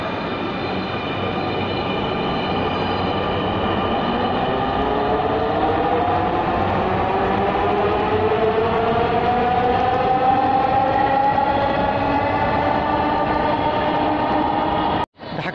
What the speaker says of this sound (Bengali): কিন্তু একটা ট্রেন আসছে